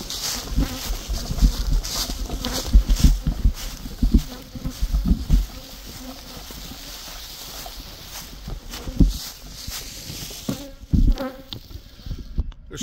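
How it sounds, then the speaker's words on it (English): A swarm of honey bees buzzes close around a beekeeper in spring, a steady insect hum with louder passes as individual bees fly near, continuing throughout. "surrounded by a bunch of bees"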